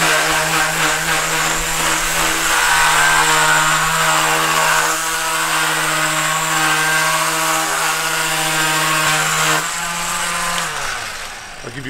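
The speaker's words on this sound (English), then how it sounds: "I can do real work, which means power tools" Thrift-shop power tools run loudly and steadily for about ten seconds with a constant motor drone, then the pitch drops as the machine winds down near the end; no one speaks.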